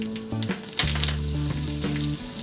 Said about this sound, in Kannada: ಎಣ್ಣೆ ಕಾಯಬೇಕು ಸಾಸಿವೆ ಸ್ವಲ್ಪ ಇಂಗು ಒಣ ಮೆಣಸಿನ್ಕಾಯಿ